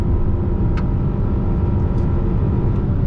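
Nissan Sentra SV with a CVT transmission droning steadily while driving on the road, a continuous low engine and road rumble with no talk, a few faint brief ticks over the constant hum.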